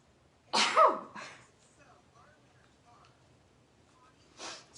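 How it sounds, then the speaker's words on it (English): A single sharp, loud human sneeze bursts out near the microphone, followed by a few faint breathy sounds and a short rustle later on. "I gotta sneeze, I'm sorry."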